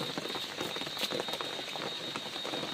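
Rain falls in the Maredumilli forest, a steady dense patter of drops on surfaces that keeps a constant soft hiss throughout, with no voices over it.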